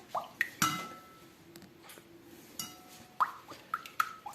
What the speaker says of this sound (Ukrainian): У кефір ми додаємо е, пів чайної ложечки соди. Так тобто її гасимо і отак от перемішуємо.